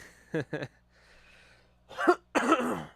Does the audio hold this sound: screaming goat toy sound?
no